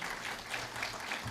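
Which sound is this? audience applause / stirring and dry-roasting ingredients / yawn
audience applause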